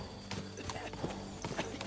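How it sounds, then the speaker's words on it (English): Horse hooves clop in a quick, even rhythm while riding in the video game Kingdom Come Deliverance 2, fairly quiet beneath a steady musical backdrop. "Is this your first time riding a horse?"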